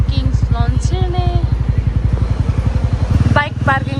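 A motorcycle engine idles and putters steadily with a close, even pulse, rising briefly near the end, with voices talking over it outside a pub and lounge.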